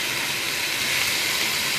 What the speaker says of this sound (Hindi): लहसुन अदरक के साथ हम इसको थोड़ी देर भुनाई करते हैं